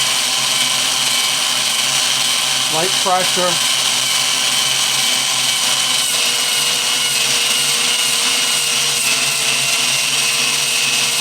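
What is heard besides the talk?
drill with 50 grit disc porting cylinder heads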